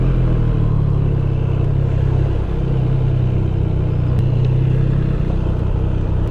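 Several motorcycles and other traffic rumbling steadily through busy Soho streets, a continuous loud low engine drone with no talking.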